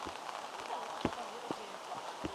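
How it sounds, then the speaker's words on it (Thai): Rain falling outdoors in the countryside of Jiangsu, China: a soft steady patter with a few sharper drop taps scattered through, fairly quiet and close. "ฝนตกไม่ค่อย สนุกเท่าไหร่"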